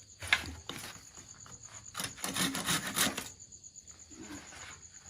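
Bamboo wood being trimmed by hand with a blade, giving a series of dry scraping and shaving strokes in uneven bursts, close and fairly quiet, with no talking.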